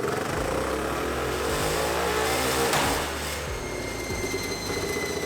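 A turbocharged lawn mower engine on a dyno, one of the fastest lawn mowers built: a loud, close engine roar with revving pitch sweeps rising and falling over a few seconds, no talking.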